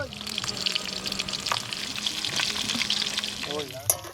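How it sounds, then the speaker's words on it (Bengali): Fish pieces frying in hot oil with a cumin tempering at a night campsite in the Sundarbans, a steady close sizzle with faint background voices and a brief clatter near the end. "জিরের ফোড়ন টোড়ন দিয়ে মাছ ভাজা হচ্ছে"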